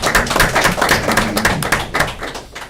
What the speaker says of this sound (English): You can clap, yes, you can.